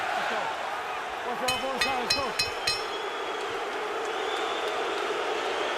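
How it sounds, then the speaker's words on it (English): Boisterous arena crowd at the Floyd Mayweather vs Ricky Hatton boxing fight, a constant rumbling din of many voices, with commentators talking over it and a few sharp clinks. "This crowd is boisterous."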